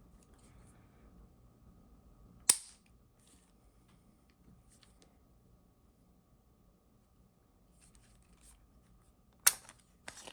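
Ruger MkIV 22/45 Lite .22 pistol magazine ejecting, two sharp, brief metallic clicks several seconds apart over a quiet background, with no talking.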